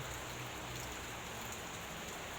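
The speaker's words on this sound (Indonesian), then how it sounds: "Dan posisi saat ini juga baru sedang hujan." Rain falls during the rainy season in a grape garden, a soft, continuous, even hiss of drops on leaves and ground that is fairly faint, with no voices.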